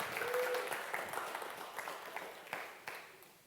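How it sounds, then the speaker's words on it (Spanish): Faint audience applause fills a church during a sermon, a steady patter of many hands with a few louder claps, slowly fading out. "Dele un aplauso al Señor"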